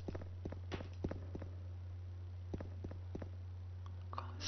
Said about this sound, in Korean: 김동호 발소리 내주고요